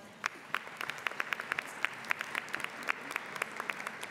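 Applause from a luncheon audience at a museum birthday event, sparse and fairly faint, with distinct individual claps scattered over a soft crowd wash.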